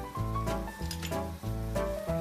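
Dried red chili, chopped ginger and garlic frying in a pan for kung pao chicken, a steady sizzle over a low hum with light clinks of utensils against the pan.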